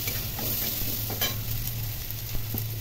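Tomato and cumin powder fry in a pan while being stirred, giving a steady close sizzle with soft scraping stirs throughout.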